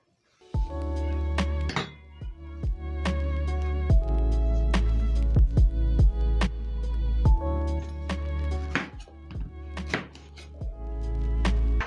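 A knife chopping the ends off plantains on a board: a series of close, sharp thunks in uneven bursts over a steady tonal background.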